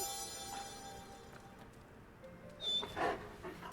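A hell hound dog in the Marvel's Midnight Suns video game whimpers and yips faintly, with a few louder, sharper dog sounds near the end over quiet game ambience.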